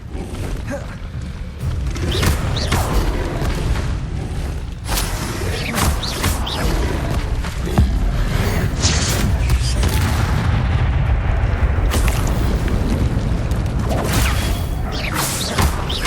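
Confringo explosive spell blasts go off repeatedly in Hogwarts Legacy combat, loud booming hits layered over dense, continuous battle noise and mechanical clatter.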